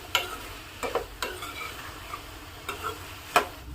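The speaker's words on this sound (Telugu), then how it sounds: "ఇప్పుడు సాల్ట్ వేసిన తర్వాత మొత్తం ఒకసారి ముక్కలు పట్టేలా కలుపుకోవాలి" Salted ridge gourd pieces are tossed and stirred in a pan, with a soft sizzle under scattered spatula scrapes and light clicks against the metal, close and without voices.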